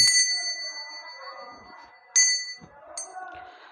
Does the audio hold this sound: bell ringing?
yes